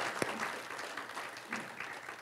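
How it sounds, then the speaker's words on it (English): Faint, distant applause from a church congregation, a short patter of clapping heard low in the background. "Let's give the Lord another clap hand for that."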